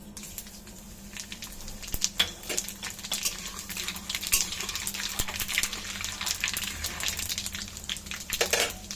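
Black cumin, fennel, cumin, two dried chillies and a bay leaf sizzle and crackle in hot oil in a pan, a steady hiss broken by irregular sharp pops, close and moderately loud.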